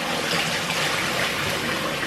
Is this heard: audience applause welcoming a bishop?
no